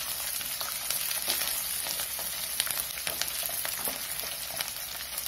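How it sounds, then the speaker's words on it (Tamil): Ginger sautéing in oil in a pan for a Tamil ginger curry (inji theeyal), a steady close sizzle and crackle with occasional stirring scrapes, no voices. "இப்ப இஞ்சி வதங்கிடுச்சு."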